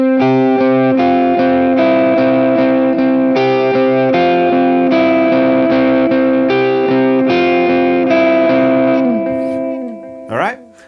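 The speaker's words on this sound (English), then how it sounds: "when you play it at speed with the delay, it sounds like this." Electric guitar plays the riff from a worship song at full speed through delay, sustained ringing notes with echo tails for about nine seconds before fading out.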